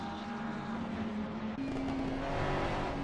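A Ferrari race car engine in Assetto Corsa, racing online at Monza, revs up under acceleration with a steady, strained rising tone and one quick gear-change dip, loud and close throughout with no voices.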